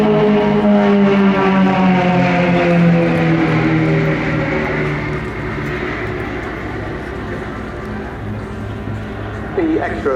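Extra 330LX aerobatic monoplane, a small German-built display aircraft, flying at an air show, its steady engine drone shifting in pitch as it passes, loud at first then easing, with a commentator talking over it throughout.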